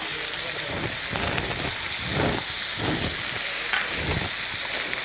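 Chopped vegetables and tomatoes fry in a pan for black-eyed pea curry, giving a loud, steady hiss and crackle with low stirring pulses underneath.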